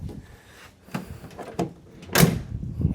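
A Jeep Gladiator tailgate swings shut with a solid thunk near the end, after a few lighter knocks and rattles, close by with no talking.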